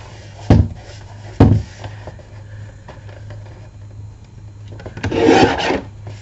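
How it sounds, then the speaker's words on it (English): A wooden piece is filed down slightly to make it fit, with two short rasping strokes early on, a quieter stretch, then a longer scraping pass up close. "I'm going to trim this down ever so slightly."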